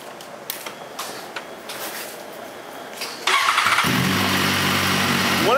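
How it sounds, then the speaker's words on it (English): A BMW S1000RR motorcycle fires up abruptly after a few quiet seconds of faint clicks and shuffling, then settles into a loud, steady, close idle. "Can we hear one of these bikes fire up?"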